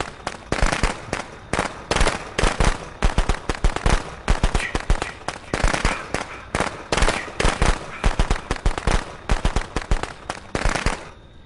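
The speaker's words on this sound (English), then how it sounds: "I waste my firecrackers for no reason." Rapid strings of sharp video-game firecracker pops crackle continuously, loud and close, bursting in dense irregular volleys with no voices.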